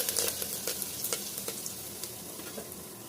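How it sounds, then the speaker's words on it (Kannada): Half a spoonful of mustard seeds crackling in hot oil for a hesarukalu and potato sambar, giving a steady sizzle broken by sharp, irregular pops, close and fairly quiet with no voices. "ಸಾಸಿವೆ ಚೆನ್ನಾಗಿ ಕಟಕಟ ಆಗಲಿ"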